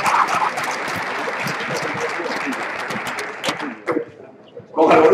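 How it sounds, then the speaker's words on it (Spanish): Audience applause at a maker fair robotics presentation (line-following robot), steady clapping for most of the stretch, then fading briefly before a loud burst of speech-like sound near the end. "Un aplauso a mi compañero Víctor"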